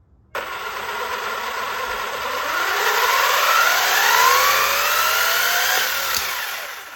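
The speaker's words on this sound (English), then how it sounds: "look at when I'm moving it, how much it turns the motor" The electric motor of a Traxxas Slash 4x4 RC car, fitted with a three-speed gearbox, spins up with a sudden whir and a rising, sweeping whine over several seconds, then trails off, heard close and alone.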